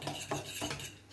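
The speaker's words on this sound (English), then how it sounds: "Give it a little stir with the fork" A fork scrapes and clinks against a bowl while stirring couscous soaked in boiling water, three distinct rhythmic strokes close up, with no voices.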